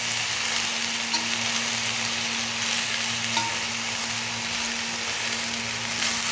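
Roselle leaves cook in a dry wok without oil, giving a steady, even sizzle with a faint low hum underneath and occasional soft clicks.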